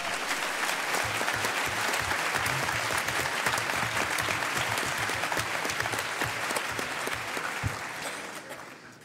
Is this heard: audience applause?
yes